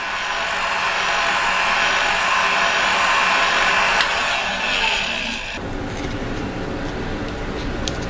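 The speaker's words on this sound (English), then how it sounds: "just give it a quick blast of warm air on both the surfaces" A warm air blower heats a knife handle liner ahead of an epoxy glue-up, giving a steady, loud broadband whoosh that runs unbroken and shifts to a rougher, lower tone after about five and a half seconds.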